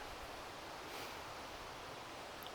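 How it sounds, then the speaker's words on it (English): Continuous broadband rush of a flowing river, steady and even, with no voices or other distinct sounds. "You can probably hear the running water in the background"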